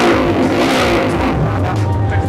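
Loud, close rumble of a modified 250cc Supra motorcycle engine held at high revs, with a steady rough roar and slight fluctuations throughout.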